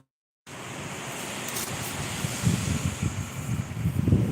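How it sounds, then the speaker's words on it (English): Steady rushing wind noise buffeting the microphone, growing rougher with low rumbling gusts in the second half after a brief silent start. "It's a little windy out here. You might be able to hear it."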